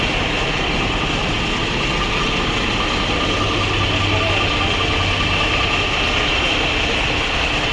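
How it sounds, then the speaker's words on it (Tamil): A Volvo bus engine runs at a steady idle at a passenger vehicle expo in Chennai, a loud, continuous low rumble with an even drone and no change in pace. "typical Volvo engine"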